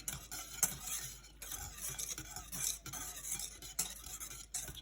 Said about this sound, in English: And then you want to whisk this up.